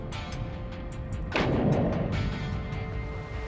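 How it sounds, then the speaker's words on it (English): Underwater near the Sipadan reef, a distant fish-bombing blast lands as a single dull boom with a rumbling tail, under a constant crackling reef background. "we heard startling sounds of explosions several miles away"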